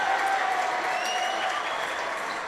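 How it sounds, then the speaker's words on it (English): Morton fans in a basketball gym at the Kevin Brown Memorial Tournament of Champions roar and clap in a continuous, even wash of crowd noise. "And you hear the roar of the crowd."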